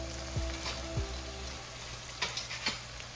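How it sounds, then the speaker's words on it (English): Onions searing in a hot pan give a steady close sizzle, with a couple of sharp clicks and scrapes near the start and later, alone without voices. "Now let's start searing the onions."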